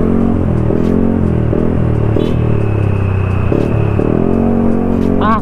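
A Yamaha Aerox scooter fitted with a K Race exhaust idles and revs with a deep, bassy, mellow engine drone, loud and close, steady throughout with small rises in pitch.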